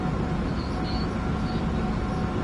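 A train running in the video game Train Sim World 5 gives a steady low rumble and broadband rolling noise, with faint brief high whines, continuous and moderately quiet.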